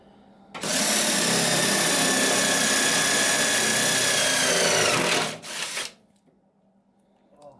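Close, loud power drill grinding steadily through a spot weld in a Datsun Z engine bay for several seconds, its pitch sagging slightly under load before it stops abruptly and winds down.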